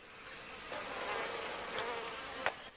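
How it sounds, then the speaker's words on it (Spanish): Wasps guarding their nest in the jungle give a continuous, close, droning buzz that rises and falls gently, broken by a few brief sharper clicks or taps near the end, with no talk. "Siempre hay algunas avispas guardando celosamente la frontera"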